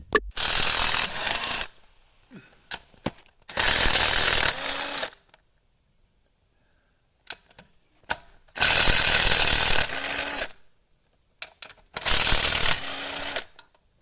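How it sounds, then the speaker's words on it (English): A cordless impact or ratchet tool removes bolts from a Nissan GT-R intake manifold in four loud, close rattling bursts of one to two seconds each, separated by quiet gaps with small clicks and handling noises. "And next I'm just gonna remove the bolts."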